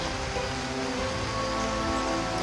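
Heavy rain pours on the leaves and bromeliads of a Costa Rican rainforest in the wet season, a dense, steady hiss of falling water that runs continuously with no voices.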